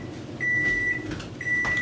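A microwave oven heating a rice krispy treat hums steadily with a steady high electrical whine, starting after a brief pause and running without interruption.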